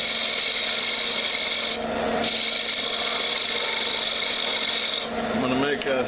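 A sharpened combination wrench rasps steadily against spinning wood, cutting a half-inch tenon on a lathe-turned pull-string top, with a continuous scraping texture, a short pause and a rougher burst near the end.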